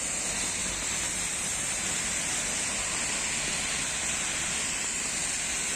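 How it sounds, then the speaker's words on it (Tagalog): Heavy rain falls on a wet Barcelona street on a Wednesday, a constant loud broadband hiss and rush that stays steady and unbroken from start to finish, with no voices over it. "lakas ng ulan oh no?"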